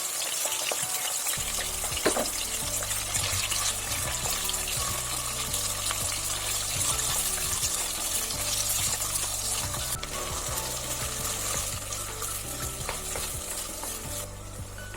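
Meat fries in hot oil in a cauldron with a constant crackling sizzle, punctuated by scraping and stirring in the pot, with a low mechanical hum underneath.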